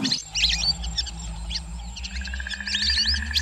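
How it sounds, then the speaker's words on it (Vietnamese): A bird cries out at night in short, repeated chirping calls over a low, dark ambient drone, like a mournful story sound effect. "trong màn đêm đen kịch, tiếng chim kiều thảm khóc."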